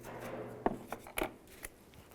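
Scissors snip the end of wire wrap during a tail light circuit board repair on a 2002-2009 Chevrolet Trailblazer, giving a few quiet, sharp clicks spaced over about a second.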